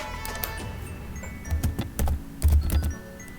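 Typing on a computer keyboard while entering a change into an Excel cell, a short run of close clicky keystrokes, sparse at first and then quicker bursts.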